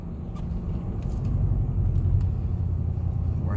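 A vehicle towing a loaded trailer of roof-washing gear heads to a job site, giving a steady low road rumble and engine drone from inside the cab, continuous and moderately loud with no talk.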